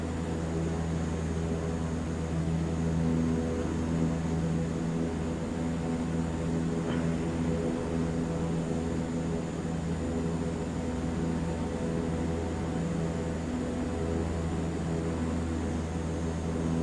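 Airplanes flying in Microsoft Flight Simulator 2024, a steady droning engine hum with a constant tonal whine, sustained and even throughout with no voices.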